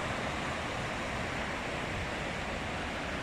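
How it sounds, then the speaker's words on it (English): A river flows steadily in Rocky Mountain National Park, a dense, even rush of water heard close and alone with no voices. "Here's the river."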